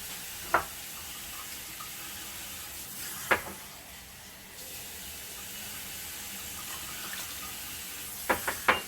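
Steady rushing hiss of water pouring from a tap into a container, continuous and close, with a few brief clinks and knocks.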